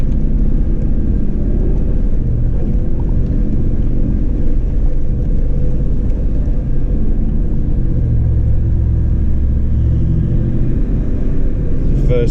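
A Toyota Land Cruiser descending a steep hill in first gear, low range, fills the scene with a loud, constant low engine rumble and drivetrain drone, heard from inside and steady throughout.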